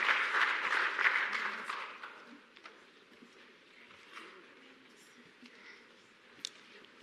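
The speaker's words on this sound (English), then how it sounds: "A round of applause, please, for them as they make their way off stage." Applause from the audience at a climate resilience symposium as speakers leave the stage, a burst of clapping that fades after about two seconds into a quieter room with a few scattered claps and murmurs.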